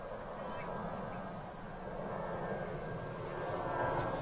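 An Airbus A319 test aircraft on the runway at Toulouse, a steady distant engine rumble and whine that swells slightly toward the end, heard faintly in the open air.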